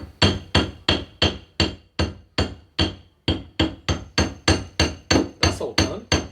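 Repeated hammer blows knock a welded bead off a metal workpiece, with about twenty sharp metallic strikes in a steady, fast rhythm that sound close and loud, with no talking.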